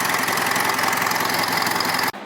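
A Mitsubishi Triton 2.5L 4D56T turbo diesel engine idles steadily up close after an overhaul, a dense, even clatter and hum that carries on without change before cutting off abruptly near the end.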